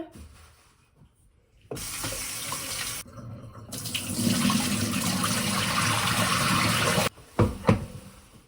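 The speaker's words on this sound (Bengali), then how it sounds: "মাছ ধুচ্ছি" Kitchen tap water pours steadily into a sink while small scaled fish are rinsed and cleaned, a strong continuous splashing rush that stops near the end, followed by a few brief knocks and splashes.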